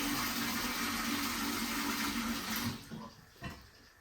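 Tap water runs into a mixing bowl after sourdough mixing, a steady, loud, close rush that cuts off abruptly, followed by a few faint drips and handling knocks.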